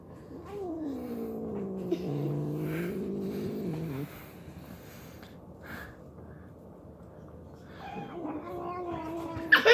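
A cat meows and caterwauls in long, wavering drawn-out yowls, one sustained cry for several seconds, then a quieter stretch before another rising wail near the end.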